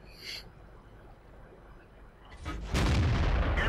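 An SU-100 tank destroyer fires its gun in World of Tanks, a single heavy boom that bursts in near the end after a quiet stretch and rumbles on loudly.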